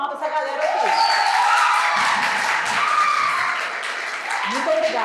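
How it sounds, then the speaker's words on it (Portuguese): Applause from a crowd at a cultural entrepreneurship lecture, loud and sustained, with voices and music-like tones mixed through the clapping and a brief bit of talk. "quero pedir para vocês uma salva de palmas para essa galera aqui"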